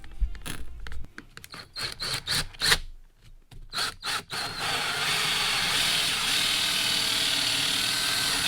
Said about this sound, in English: In 2 of my ceiling planks, I'll need to cut holes for the overhead lights that I'll be installing.